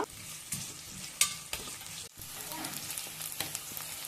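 Chopped onions and curry leaves frying in hot oil for a Mangalorean prawn curry give a steady, fairly close sizzle, broken by a few sharp stirring and spatter bursts.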